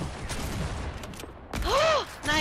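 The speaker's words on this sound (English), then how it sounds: "Wait, am I shooting a bike? I'm shooting a fucking bike!" Rapid burst of gunfire in the video game Fortnite as a player shoots at a bike, loud and close, followed by sharp synthetic tonal game effects, with voices talking over it.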